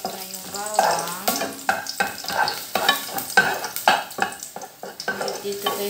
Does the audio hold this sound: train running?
no